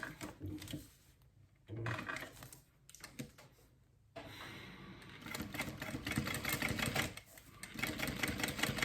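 A sewing machine top-stitches a fold-over fabric clutch in quiet, rapid rhythmic bursts. The stitching runs in short stops and starts at first, then settles into a longer continuous run.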